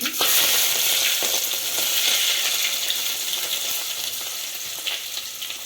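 Cumin, curry leaves, green chilli and onion sizzle loudly in hot oil in a pan for a tempering, a steady crackling fry with occasional stirring clinks.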